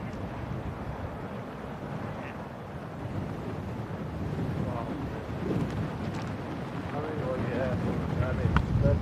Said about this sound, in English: Just gusting a little stronger suddenly.